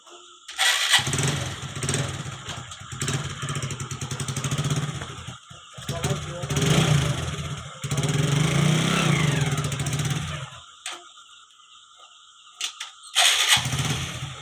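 A Hero Glamour motorcycle engine revs hard during off-road stunt riding, rising and falling in loud bursts, dropping away briefly near the middle and fading near the end before a final revving burst.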